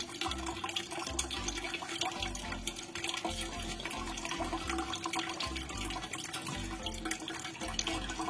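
Water gushes out of the exhaust pipe of a Mitsubishi Xpander in a continuous, close splashing stream that holds steady throughout, with no voices.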